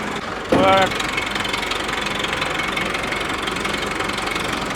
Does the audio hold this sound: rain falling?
no